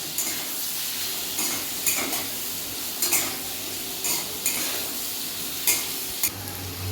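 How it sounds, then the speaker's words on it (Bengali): Potatoes frying in oil until reddish crackle with a steady sizzle, punctuated by repeated sharp utensil scrapes and clinks against the pan at irregular intervals. No voices. "আলুগুলোকে আমি লাল করে ভেজে নিই"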